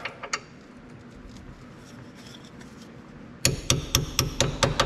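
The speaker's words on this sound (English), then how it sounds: "I do always kind of tap them in to make sure they're in all the way when they're dirty like that" Metal parts on a John Deere Gator 620i front axle tapped into place with a hammer: a run of about eight sharp, evenly spaced ringing strikes near the mic, following a couple of earlier taps over low workshop noise.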